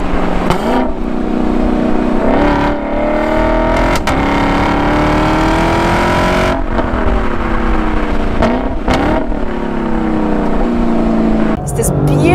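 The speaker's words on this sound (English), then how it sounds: "It's this beautiful exhaust music." A Lexus LC sports car's exhaust drones and burbles steadily while driving, rising and falling with gear changes, with someone speaking over it.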